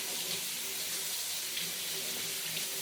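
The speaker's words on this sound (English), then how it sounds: "the first thing you're going to do is you're going to wash your rhubarb" Tap water runs steadily over organic rhubarb being rinsed at a kitchen sink, a continuous close hiss and splash with faint shifts as the stalks move under the stream.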